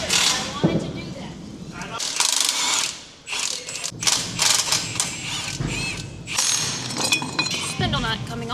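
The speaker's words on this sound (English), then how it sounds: "Spindle nut coming off." A ratchet removes a spindle nut, giving close, loud, repeated clicking and clinking metal bursts mixed with people talking throughout.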